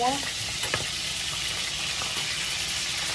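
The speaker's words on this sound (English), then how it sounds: "This is a whole pound package of bacon I'm cooking." A whole pound of bacon and burgers frying in a pan, a steady dense sizzle and crackle close up that runs unbroken throughout, with faint stirring clinks near the start and no talking.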